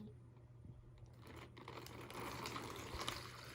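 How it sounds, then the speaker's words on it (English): Two cups of water poured into a Ziploc bag for making popcorn, a faint steady trickle that grows into a fuller splash over a few seconds, quiet and close. "we're going to put 2 cups of water in your Ziploc baggie."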